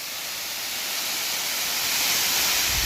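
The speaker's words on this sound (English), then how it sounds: "A free-falling waterfall just above our camp." A free-falling waterfall in the Black Canyon of the Gunnison roars in a steady, broad rushing hiss, swelling slightly louder toward the end.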